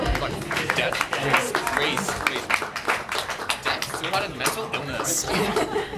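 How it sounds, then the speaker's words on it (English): An audience breaks into dense, steady applause with scattered chuckles mixed through the clapping. "Round of applause"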